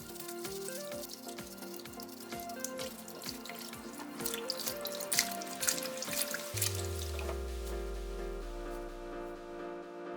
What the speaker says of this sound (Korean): 총 3번 헹궈주고 마지막에 물에서 바로 건져서 물기를 살짝 털고 바로 담아